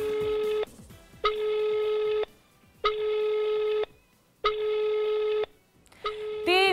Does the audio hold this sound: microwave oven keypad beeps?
no